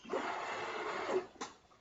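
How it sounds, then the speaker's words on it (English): A 3D printer prints a keyboard mounting plate for retrofitting Cherry ML switches into a Kinesis Advantage 1, giving a steady, close mechanical whir with a brief louder buzz near the end. "So now you can see the printer doing its thing."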